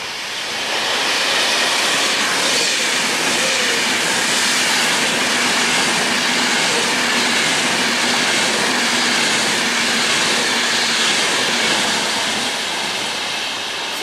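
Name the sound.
Avanti West Coast passenger train passing through Layton station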